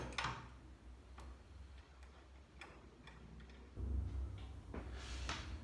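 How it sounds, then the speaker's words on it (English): A ratchet tightens a bolt on a Shovelhead motorcycle shock, giving sparse, evenly spaced clicks at close range, faint and quiet against a low background rumble. "I always use a ratchet when you're tightening things"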